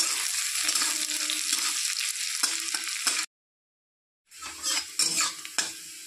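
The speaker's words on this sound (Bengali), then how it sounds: "পেঁয়াজ কুচি একটু লাল লাল করে নিতে হবে পেঁয়াজটা" Finely chopped onions sizzle steadily in hot oil while being browned for a pointed gourd paturi, a close, bright frying hiss with light stirring scrapes that cuts out for about a second before returning.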